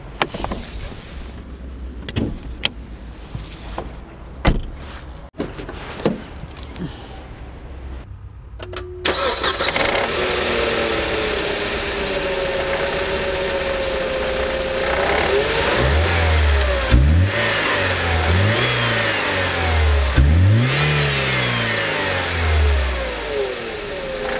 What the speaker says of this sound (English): I'm going to show you how this engine sounds right now.